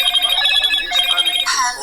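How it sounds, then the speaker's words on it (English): Mobile phone ringtone going off, a loud close electronic melody with bright repeating tones filling the short stretch. "My phone's ringing."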